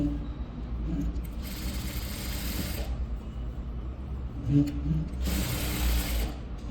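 Sewing machine stitching the lining of a velvet blouse, a steady mechanical whir of the needle that runs in two louder bursts with quieter handling between them.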